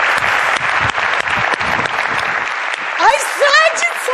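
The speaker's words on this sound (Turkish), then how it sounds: "Alkışlıyoruz." A studio audience claps loudly and continuously on a Turkish comedy show, with voices talking over the applause and rising whistle-like tones breaking in during the last second.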